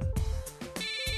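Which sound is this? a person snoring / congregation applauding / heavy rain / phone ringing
phone ringing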